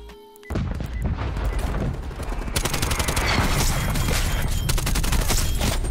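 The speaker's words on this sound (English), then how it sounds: "I'm using the artillery right here." Artillery strike in a Call of Duty game: a sharp onset launches into a dense, continuous barrage of booming explosions and rapid gunfire, loud and sustained, growing heavier partway through.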